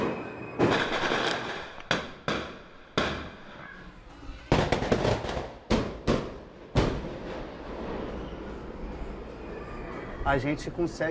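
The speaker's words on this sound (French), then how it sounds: "Le bruit, c'était à nouveau des tirs de mortier pour dire que nous sommes là." Mortar-type fireworks fired in a Rio favela to announce police presence, a series of loud sharp booms spaced about a second apart, echoing between blasts, with voices in the background.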